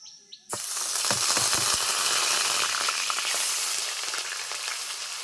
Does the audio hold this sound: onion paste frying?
yes